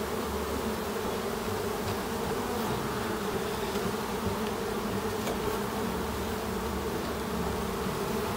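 Carniolan honey bees buzz continuously around an open hive during an inspection, a dense, even hum of many insects close by, with no talking.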